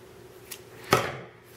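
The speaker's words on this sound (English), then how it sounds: "Grab my scissors." Scissors snip once through yarn at the end of a crocheted scarf, a single sharp close cut in an otherwise quiet room.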